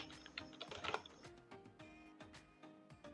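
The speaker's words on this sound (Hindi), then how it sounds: "अब मैं यहाँ पे क्लिक करूँगा और यहाँ पे टाइप कर देता हूँ मैं" Quick, uneven clicks of typing on a computer keyboard while entering an invoice in Excel, close and fairly quiet, with no talk.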